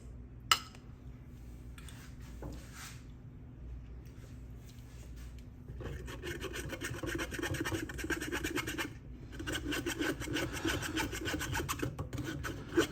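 Lemon being zested on a grater for keto lemon curd: soft, steady rasping and rubbing strokes close up, quieter at first and then fuller and more continuous, with a brief pause near the middle and no talk.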